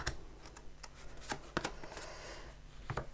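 Oracle cards handled and drawn from a deck, giving a series of soft, close flicks and slides in an irregular rhythm, quiet and alone.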